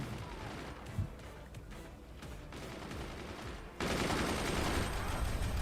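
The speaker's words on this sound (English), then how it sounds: "Machine gunners just firing away." Rapid machine-gun fire and explosions from the Forts RTS game during a team battle, a dense continuous barrage that gets suddenly louder partway through, with no clear speech.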